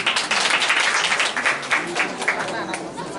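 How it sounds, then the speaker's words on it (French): Audience applause at an end-of-year school ceremony at a school complex in Guinea, a dense sustained clapping from a crowd with some scattered chatter underneath. "Sous vos applaudissements."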